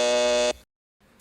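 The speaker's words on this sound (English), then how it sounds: "And there's the buzzer." A quiz show buzzer sounds in a TV studio, one loud steady electronic tone lasting about half a second, then cut to near silence.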